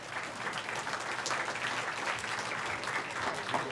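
A conference audience gives steady, sustained applause as a moderator is welcomed to the stage at a talk on mindful, healthy living, the clapping even and unbroken throughout.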